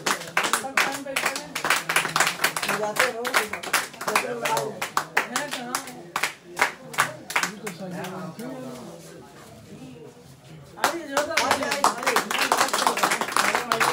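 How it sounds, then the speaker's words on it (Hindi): At a company gathering, an audience claps for the chief promoters, with loud irregular hand claps that thin out midway and then swell again, while voices talk over parts of it. "एक बार जोरदार तालियां दोनों लोगों को"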